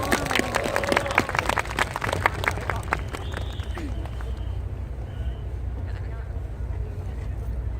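Applause from a school audience at a live comedy talk event with middle school students, a dense burst of clapping near the start that thins and fades over the clip, with crowd murmur underneath.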